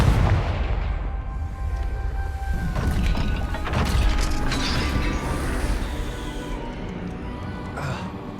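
A Confringo spell blast in the video game Hogwarts Legacy lands as a heavy booming impact amid mechanical creaks and rumbling debris, set over loud game ambience.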